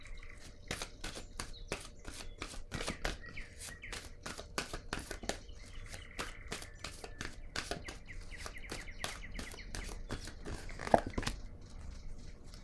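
Oracle cards are handled from a deck, giving a steady run of crisp, rapid flicks and soft papery riffles that go on throughout, close and fairly quiet, with no voice.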